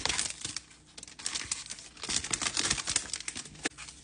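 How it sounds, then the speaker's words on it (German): A plastic bag of frozen natto from a German supermarket is torn open, giving dense, loud crinkling and crackling of plastic film throughout, with sharp tearing bursts and no voices. "Ich zeige euch mal, wie es ist, wenn man die Tüte normal aufmacht."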